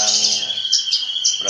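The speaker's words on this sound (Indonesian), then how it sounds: "beranjangan itu kan burung endemik Nusantara nih ceritanya nih ya." A bush lark, the branjangan parva type, calls with rapid bright chirps and trills, repeated in short bursts, loud and close.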